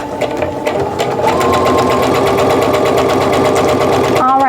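A sewing machine stitches a quilt fabric seam for flying geese blocks in one loud, continuous close-up run that changes pace slightly near the end.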